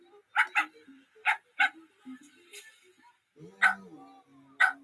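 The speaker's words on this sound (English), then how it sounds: "Donnell, what the hell am I supposed to do with this mangy old dog" A mangy old dog gives a series of sharp, loud barks and yips in uneven pairs and singles, close by in a quiet room, with a brief voice or whine between them.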